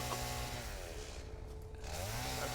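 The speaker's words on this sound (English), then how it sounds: "pretty cool looking chainsaw." A chainsaw in Satisfactory cutting trees, a steady, loud, continuous engine drone with a slight pitch dip midway and no talk over it.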